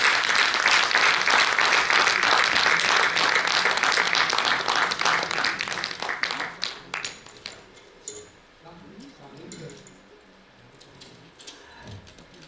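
An audience at a national convention session applauds loudly and steadily for several seconds, then the clapping thins into scattered claps and fades into quiet room sound.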